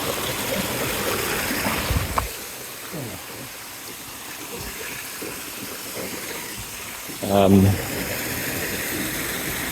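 A stream of icy water rushes steadily into a mountain pool on a Norwegian hike, a constant broad splashing roar nearby. A brief voiced sound rises over it partway through.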